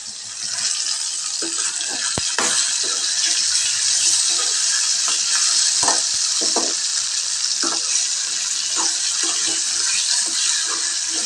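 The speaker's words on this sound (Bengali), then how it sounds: "একটু ডিপলি ফ্রাই করব একটু সোনালি গরম হয়ে আসলেই আমি নামিয়ে ফেলবো" Paneer deep frying in hot oil, a steady, loud, continuous sizzle with occasional soft pops and crackles throughout, no voices.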